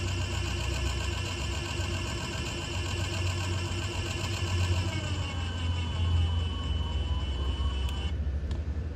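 An electric valve actuator motor drives the valve to full open with a steady, close mechanical whir and hum that runs evenly before cutting off near the end.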